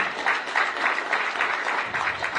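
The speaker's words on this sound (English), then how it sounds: "you can clap" A rally crowd in Susanville claps in a brief, moderate burst of many hands, an even patter lasting a couple of seconds with no speech over it.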